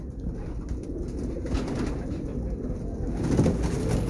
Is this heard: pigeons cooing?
yes